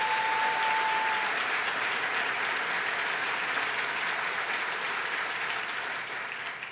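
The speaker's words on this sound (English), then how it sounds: "Let's give her a round of applause." Full, sustained applause from a large audience at a New York governor's 2015 policy address, honoring a teacher, dense and even throughout, easing slightly toward the end, with no speech over it.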